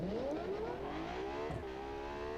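A dual-clutch car accelerates hard on a drag strip, its engine note climbing steeply in pitch, then dropping briefly at a quick gear change before rising again.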